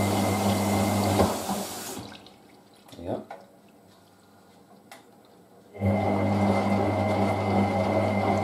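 Water sloshes inside a Hotpoint 9530W Electronic 1000 Plus washing machine on a 60°C colourfast cotton wash, heavy churning surges broken by a quieter gap with a few drips and splashes before the drum sloshes loudly again.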